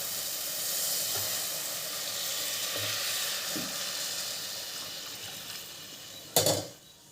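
Frying masala for egg curry sizzles quietly in a pan, then heated water is poured in near the end, setting off a sudden loud hissing burst that quickly fades.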